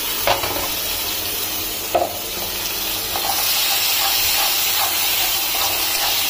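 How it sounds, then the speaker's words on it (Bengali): Ginger, garlic and papaya masala paste fries in a pan after melted tomatoes, a steady broad sizzle and hiss with occasional stirring scrapes and knocks, close and fairly loud, with no talk. "চলো আমি একটুখানি এটা মশলাটা ভেজে নিই ভালো করে।"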